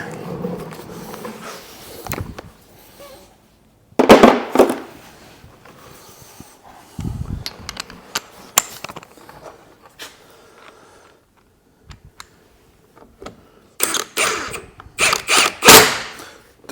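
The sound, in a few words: impact gun on wheel bolts, car suspension repair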